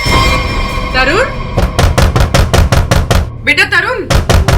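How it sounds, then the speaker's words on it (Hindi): Someone knocks on a door in a CID crime television episode with sharp, rapid, loud knocks in repeated bursts. A person talks before the knocking and again midway through it. "बेटा तरुण, दरवाजा खोलो, दरवाजा खोलो बेटा, मम्मी बाहर खड़ी है।"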